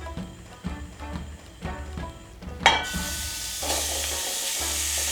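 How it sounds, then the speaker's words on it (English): Pork is stir-fried in a little cooking oil in a pan over medium heat, a soft sizzle with rhythmic scraping stirs that swells into a louder steady hiss partway through, near and without speech. "Stir fry the pork until they are fully cooked."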